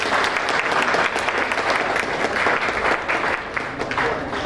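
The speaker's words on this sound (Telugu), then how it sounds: "ఒకసారి గట్టిగా చప్పట్లు కొట్టండి." The crowd at a Vasavi Clubs cabinet meeting breaks into loud, sustained applause. Dense clapping fills the room close up and holds steady throughout, with a faint murmur of voices beneath it.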